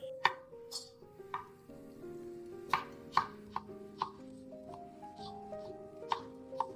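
A knife chops through whole yuzu, skin and all, on a cutting board: a dozen or so sharp, separate cuts at an uneven rhythm, close and clear over soft background music.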